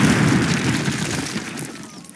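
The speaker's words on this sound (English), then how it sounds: "Fire in the hole!" A heavy explosion goes off in a World War II video game, a loud, close boom that rumbles and slowly fades away.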